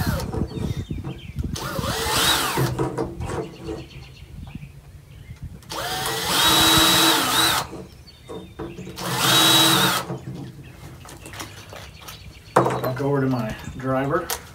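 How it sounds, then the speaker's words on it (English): Power drill boring into a wooden birdhouse, three loud bursts of whirring a few seconds apart, with quiet handling noises between them and a person speaking near the end. "So I'm going to drill this."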